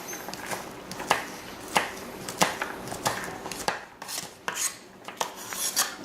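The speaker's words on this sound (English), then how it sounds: "Okay, so we want to chop our garlic." Knife chopping garlic on a cutting board: quick, uneven close taps and rhythmic cuts, fairly quiet, with no talking over them.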